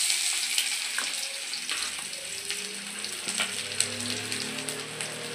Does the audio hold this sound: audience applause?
no